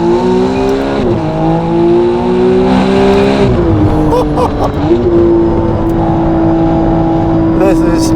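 A Novitec-tuned McLaren Artura with a new exhaust system moves back and forth in a multi-point turn, its engine droning loud and close with shifting revs, while a person talks over it.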